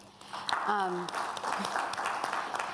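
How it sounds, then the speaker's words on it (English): Conference attendees at a digital healthcare panel give the panelists a soft, steady round of applause, heard faintly while a voice speaks over it. "We could have a round of applause for everyone."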